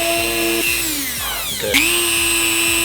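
A loud, close power tool whines continuously while trimming a plastic ring for a Subaru WRX STI headlight intake, its pitch dipping under load and then climbing back up.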